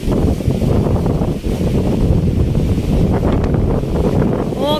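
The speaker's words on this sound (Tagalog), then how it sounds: "grabe mahal ang hangin" Strong wind at an empty seashore in rainy weather with big waves, a loud continuous roar buffeting the microphone and masking the surf beneath, no voices.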